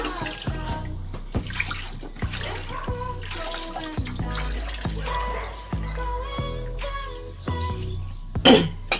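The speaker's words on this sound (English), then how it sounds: "This is your sponge. You must clean it properly. You must rinse this." A dish sponge is rinsed under running water at a kitchen sink, with a steady splashing flow broken by repeated soft squelches and wet knocks as it is squeezed and turned, close and fairly loud.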